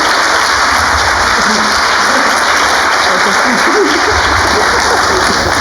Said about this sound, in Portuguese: Aplaudam a Ele.